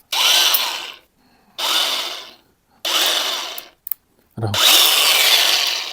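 A DeWalt DCG410 angle grinder with a 125 mm disc switches on and runs in several loud, steady bursts of a second or so each, spinning down between them, with a longer final run after a brief low thump.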